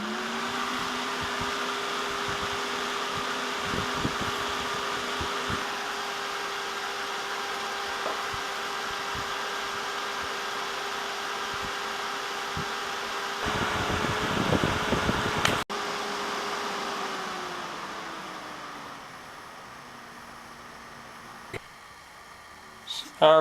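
A 92mm computer cooling fan runs with a steady whirring hum and a tonal whine. A louder stretch in the middle slows down and fades toward the end.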